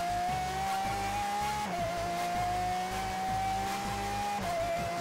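An almost maxed-out S2-class race car in Forza Horizon 3 drones at high revs, with quick gear shifts dropping the pitch briefly. Tires squeal, and the engine stays loud and continuous throughout.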